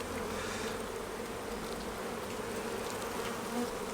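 Honeybees fill an open hive with a dense, steady buzz, close and continuous throughout, as the colony works cells with nectar.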